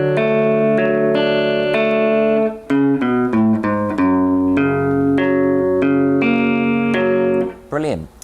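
Electric guitar playing the opening of a song: picked chord notes and quick melodic runs in a steady flowing rhythm, close and loud with light effects, with a brief pause partway through.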